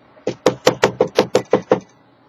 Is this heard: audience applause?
no